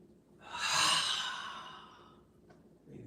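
A single long, breathy exhale during a qigong exercise, close and audible, rising quickly and fading out over a couple of seconds, followed by a faint intake of breath.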